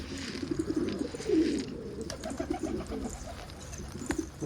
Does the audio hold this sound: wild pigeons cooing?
yes